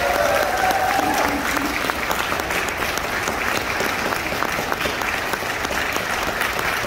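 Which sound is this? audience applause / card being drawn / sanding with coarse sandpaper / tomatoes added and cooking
audience applause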